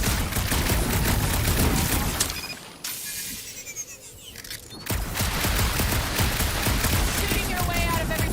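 Sustained blasting gunfire in Marvel's Guardians of the Galaxy, dense and loud, pausing briefly amid a whooshing effect before resuming, layered with game sound and speech.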